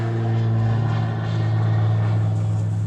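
A steady droning engine hum, like a propeller plane passing with heavy traffic rumbling underneath, loud and continuous.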